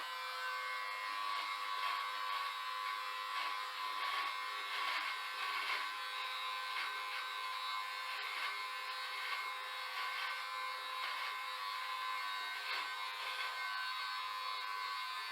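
Philips Norelco Series 7000 vacuum beard trimmer running at a length setting of 3, a steady high, thin electric buzz that holds evenly and fairly quietly throughout, with no talking.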